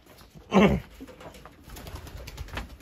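Pigeons at a flyers' loft give a short burst of cooing and wing flutter that swells loudly for a moment, then fades into quieter scattered calls and shuffling, with one more brief call near the end.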